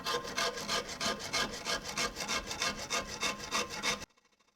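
A Shinto rasp scrapes sturgeon skin on a wooden bow in quick, even strokes, about ten loud close rasps in steady rhythm, then stops abruptly.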